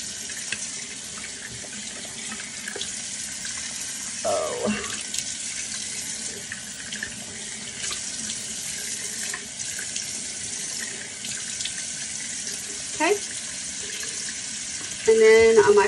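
Tap water runs steadily into a sink while skincare product is rinsed off a face, a continuous close splashing hiss with brief louder splashes and handling sounds near the end.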